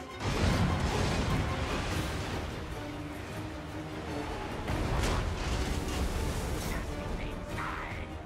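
Blade claw catapult from Total War Warhammer II launching amid a loud, continuous battle din, with crashing impacts and bursts of rumble layered over shouting and clamour, strongest early on and again about two-thirds through.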